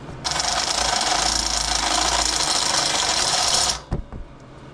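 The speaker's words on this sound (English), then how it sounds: "Next, I'm going to just try to chamfer the hole a little bit with a step bit." Power drill with a step bit chamfering a hole in a metal firebox, a loud steady high whine for several seconds that stops abruptly, followed by a couple of metallic clunks.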